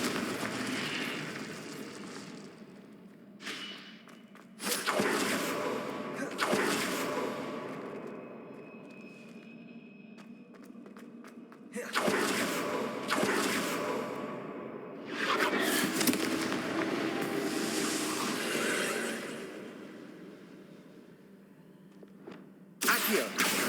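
A Confringo fire spell cast in the Hogwarts Legacy video game bursts out as several loud whooshing blasts with crackling fiery tails, separated by quieter gaps and followed by a final burst at the end; no one speaks.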